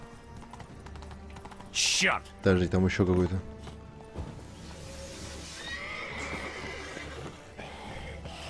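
A knight's horse in The Witcher 3 whinnies loudly and briefly, followed by hoofbeats, with someone talking over the game sounds.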